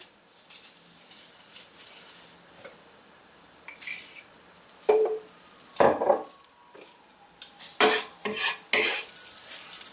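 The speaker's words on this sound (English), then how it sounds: "I'm gonna get some oil and a little bit of butter in the pan." Oil and a little butter in a hot pan give a soft sizzle under intermittent utensil scrapes and clatter, close by, with louder knocks toward the end.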